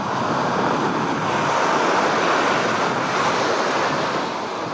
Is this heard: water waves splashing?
yes